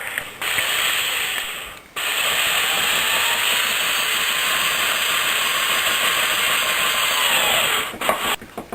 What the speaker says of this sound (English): he's going to screw that in to the stud that's right on the side of the wall there